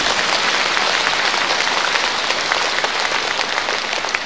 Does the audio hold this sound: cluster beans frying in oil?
no